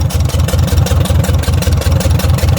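A 1953 Ferguson TO-30 tractor engine, restarted after sitting for 15 years, idles loud and close with a fast, even chugging pulse.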